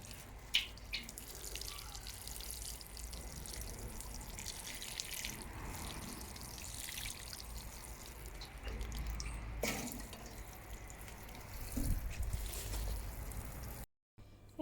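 Water poured over soil where peach, nectarine and apricot seeds have just been planted, a steady soft splashing and trickling close by that holds throughout, ending in a brief cut to silence.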